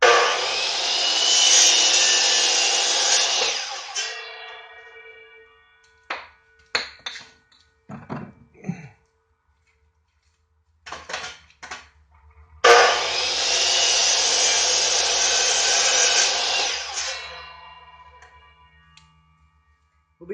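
A power saw cutting cherry and red oak wood, two long loud cuts of several seconds each, separated by knocks, clunks and handling of the wood, with no talk.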